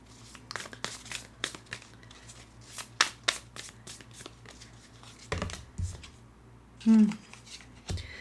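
Tarot cards being shuffled, a quick series of crisp riffling and flicking bursts close to the microphone, with a few louder slaps and a voice speaking briefly in between.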